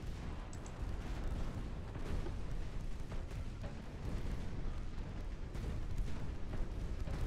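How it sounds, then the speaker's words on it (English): Destroyer guns fire in a naval battle in Ultimate Admiral: Dreadnoughts, a steady dense barrage of rumbling booms and overlapping blasts that carries on without a break. "Get my destroyers firing on this one."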